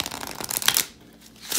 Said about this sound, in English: And we should have shuffled cards now.